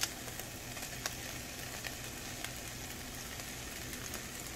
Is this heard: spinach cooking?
yes